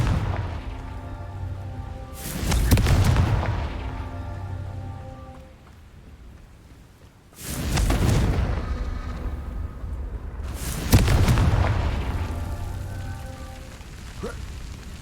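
Confringo spell explosions in a wizard video game go off three times at spaced intervals, each a loud booming burst that decays into a rumbling, crackling tail over a quieter ambient hum, with no voices.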